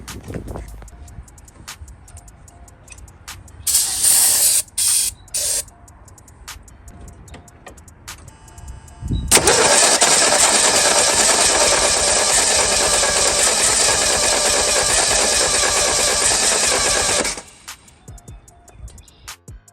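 An old Ford Mustang that has sat for 30 years, primed with starting fluid, cranks in a few short bursts, then catches and runs loudly and steadily for about eight seconds before cutting off.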